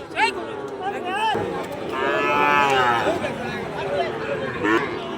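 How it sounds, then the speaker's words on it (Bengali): Cattle mooing at a busy cattle market, a long drawn-out bellow rising in the middle over steady crowd chatter and people talking nearby. "অসংখ্য সুন্দর সুন্দর গরু হাটে উঠছে"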